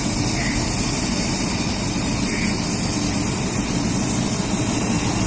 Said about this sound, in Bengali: ফুল স্পিডে পাখা ঘুরছে। আমরা সেই সাউন্ডটা শুনতে পাচ্ছি যেটা আমরা আকাশে শুনতে পাই।